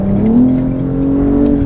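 BMW M240i engine in sport mode giving a loud, deep, steady drone as revs climb slightly, heard from inside the car with no talking.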